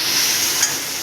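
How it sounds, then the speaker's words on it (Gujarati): Chopped tomatoes hit a hot pan of pasta sauce with a brief, loud, steady sizzle, close up and alone. "કટ કરેલા ટમેટા ઉમેરી દઈશું."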